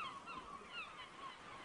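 Seabirds calling from a cluster of nesting rocks opposite the cliffs at Easter Island, a steady chorus of thin, high cries overlapping against a constant wash of wind or surf, distant and fairly faint.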